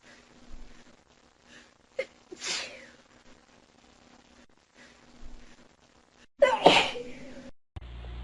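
Sneezes, a couple of moderate sneezes followed by a louder, sharper one near the end, with faint voices and quiet room sound between them.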